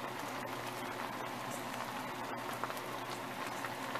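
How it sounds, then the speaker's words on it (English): Chicken and dumpling broth bubbles steadily in a pot on the stove, a dense, even simmering hiss with soft popping close by, no talking. "the opening where it's bubbling"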